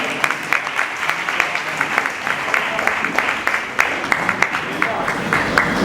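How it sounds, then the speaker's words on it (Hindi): An audience applauds at a yoga foundation inauguration event, a steady, continuous wash of many hands clapping for several seconds with no speech over it. "तो तालियों के साथ वो दिखाइए।"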